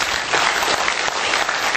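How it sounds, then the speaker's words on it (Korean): Steady, full applause from a crowd at a Christian newspaper and broadcaster's founding ceremony, dense and continuous with no individual claps standing out, and no voices over it. "우리 서금자 회장님에게 큰 박수"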